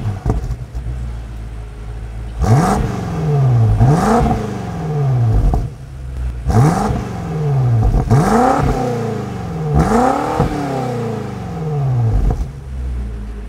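Outside a 2022 BMW X6M Competition SUV with a quad active exhaust, a series of sharp throttle blips rings out, roughly six loud close revs rising and falling, with clattering pops between them.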